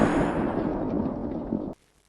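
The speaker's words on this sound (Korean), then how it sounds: "총성이 울렸다." A single loud gunshot-like blast rings out at the start and its rumbling decay carries on for nearly two seconds before cutting off abruptly into silence.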